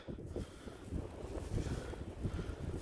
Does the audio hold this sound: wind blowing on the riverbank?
yes